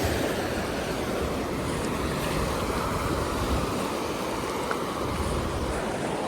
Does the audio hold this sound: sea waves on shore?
yes